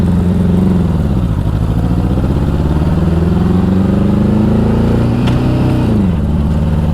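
A 1984 Honda Goldwing motorcycle engine idles loudly and steadily, its pitch rising as it revs up twice when taken out of gear before dropping back, close by with no talking.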